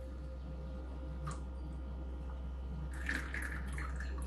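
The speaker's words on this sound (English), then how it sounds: "Just gonna pour it into this bowl" Homemade wild rose simple syrup pours from a pot into a bowl, a soft liquid trickle and drip under a low steady hum, rising into a brief splashier pour near the end.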